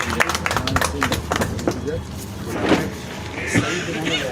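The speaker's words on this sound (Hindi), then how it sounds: "एक बार जोरदार तालियों से" A crowd gives loud applause at a Bharatiya Janata Party foundation day ceremony in Gangapur City. The clapping is busy and rapid for about two seconds, then fades under scattered voices and general hall noise.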